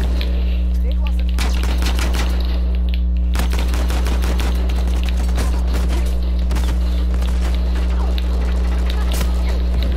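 Gunfire in Uncharted 4 multiplayer, loud rapid bursts of shots and repeated cracks over a constant low hum, with a voice talking over the action.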